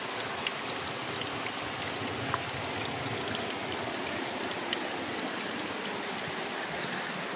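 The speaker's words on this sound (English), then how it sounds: "Look at this little fairy waterfall." A small waterfall on a forest trail in Cades Cove, Great Smoky Mountains, in December, giving a soft, steady rush of falling water with faint droplet splashes, continuous and fairly quiet.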